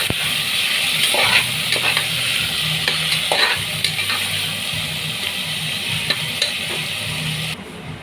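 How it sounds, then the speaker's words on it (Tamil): Onions, curry leaves and spices for mutton kuzhambu sauté in a pan with a loud continuous close sizzle and frequent scraping stirs of a spoon, with no talk. "மசாலா ஐட்டம் சேர்த்த உடனே வெங்காயம் கொஞ்சம் கருவேப்பிலை சேர்த்து நல்லா வதக்கி எடுக்கணும்"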